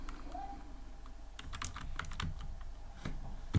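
Typing on a computer keyboard while coding a tic-tac-toe game in Python: a run of close, irregular key clicks and taps, quiet at first and then quicker, with no voice.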